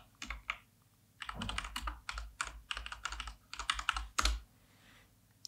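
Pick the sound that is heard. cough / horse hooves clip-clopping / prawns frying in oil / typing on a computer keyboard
typing on a computer keyboard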